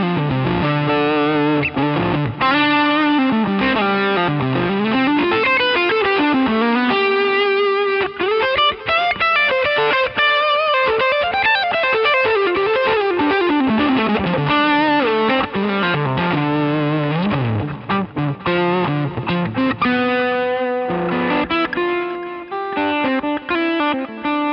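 An electric guitar through a Dumble-style overdrive tone on a Line 6 Helix plays a continuous lead and chord passage, warm and distorted with a touch of chorus and reverb, loud and steady with no talking.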